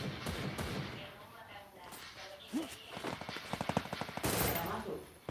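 Rapid bursts of gunfire from the Free Fire battle royale game crackle in quick rhythmic volleys, mixed with game effects and a voice talking over the action.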